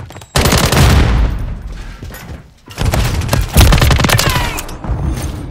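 Dense automatic gunfire in Call of Duty Modern Warfare 3 multiplayer on the Rio map: loud, close bursts of rapid shots with a brief pause in between, then another sustained volley.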